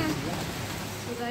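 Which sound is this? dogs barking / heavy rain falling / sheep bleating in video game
heavy rain falling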